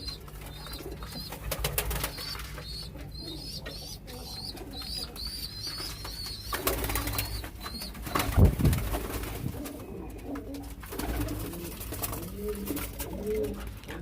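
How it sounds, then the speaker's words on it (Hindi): Kabuli pigeons coo in low soft repeated calls near a loft, with brief high chirps and a wing flap, over a faint background murmur. "बाकी काबली कबूतर हैं"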